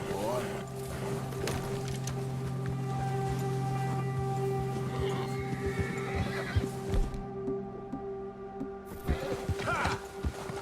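In Red Dead Redemption 2, a horse neighs loudly with a long, wavering whinny, followed by clopping hooves and scattered thuds as the animal moves about.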